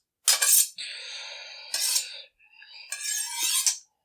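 A chef's knife blade drawn along a sharpening steel in three long rasping strokes, each a bright metallic scrape with a ringing tail, clear and close with short pauses between.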